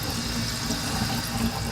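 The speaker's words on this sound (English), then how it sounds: "we're going to turn on the water and wet our hands under a steady flow of water." Steady tap water running into a sink while hands are rinsed, a constant broadband rush with no talk over it.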